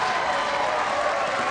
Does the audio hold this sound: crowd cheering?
yes